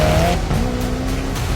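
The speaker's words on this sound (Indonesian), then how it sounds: "Alasan mobil ini jadi salah satu mobil paling cepat di dunia karena mesin turbocharged V8 kembarnya" A twin-turbocharged V8 supercar accelerates hard, its engine roaring close and loud while the tires squeal with rising, sustained pitch for a moment.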